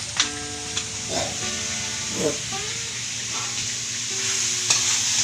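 Egg frying in a hot pan in a home kitchen, a steady sizzle with intermittent scrapes and clinks of stirring, with faint voices and background noise around it.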